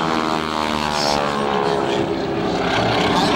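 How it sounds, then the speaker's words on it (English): Propeller warbird airplanes at a 2006 airshow, props spooled up to full RPM with the blade tips going supersonic, give a loud, continuous droning roar with a steady buzzing whine that holds throughout. "Pilot spins and spools these props up to full RPM. The tips of the propellers go supersonic."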